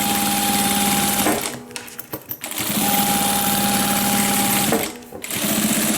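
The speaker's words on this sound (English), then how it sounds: "I'm using a 4 stitch length on this machine, back stitch, and then all the way down." A sewing machine stitches a seam with a back stitch, running in a loud, close, continuous whir, pausing briefly twice amid handling clatter before starting up again.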